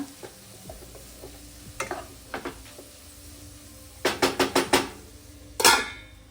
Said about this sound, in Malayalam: അപ്പോൾ ഇടയ്ക്കൊന്ന് ബീൻസ് ഒന്ന് ജസ്റ്റ് ഒന്ന് ഇങ്ങനെ ഇളക്കി കൊടുക്കുക.